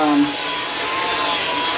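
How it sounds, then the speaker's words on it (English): A handheld blow dryer runs steadily on hair, a close, loud, even whooshing hiss lasting throughout with no pauses. "We're officially done with the blow dryer."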